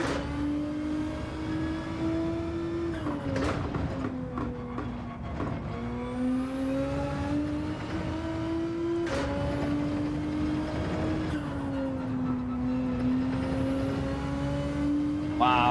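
A Nissan GT-R racing in Gran Turismo 7 holds a loud, sustained engine drone, with several short drops and climbs in pitch as it shifts gears and accelerates, steady throughout with no speech.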